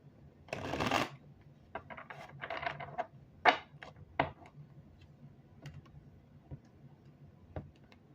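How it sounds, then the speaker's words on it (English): A deck of tarot cards is riffled in one loud, dense burst near the start, followed by scattered light taps and flicks of cards being squared and handled, close and clear with no talk. "These are already shuffled, but I'm gonna shuffle one more."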